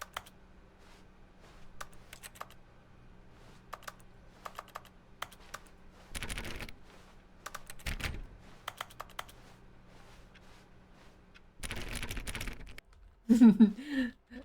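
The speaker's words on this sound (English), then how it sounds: "Don't know why that was a computer clicking sound then." Computer keyboard keys click in the video game The Stanley Parable: sparse, irregular taps with a few denser bursts of typing over a low hum, and a short voice cuts in at the end.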